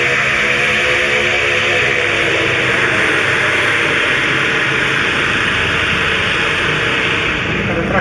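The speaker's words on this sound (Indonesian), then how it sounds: "Ada traktor itu." A tractor engine runs steadily at close range, a loud, continuous drone with a low mechanical hum that holds unbroken for the whole stretch.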